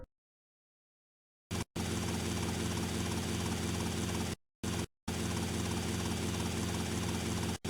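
A helicopter in the video game GTA Vice City: a steady, loud whirring engine and rotor drone that cuts out briefly a few times, with no talk.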